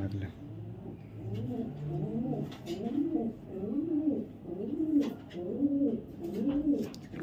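Racing pigeons coo in a rhythmic, repeated series of soft throaty calls, close by, with someone talking over them and faint background noise.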